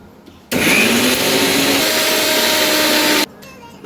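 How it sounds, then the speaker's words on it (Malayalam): A kitchen mixer grinder whirs loudly while grinding coconut for a vegetable curry, switching on abruptly and holding a steady high-pitched motor drone for under three seconds before cutting off. "ഈ സമയം കൊണ്ട് തേങ്ങ അരച്ചു കൊണ്ടുവരാം"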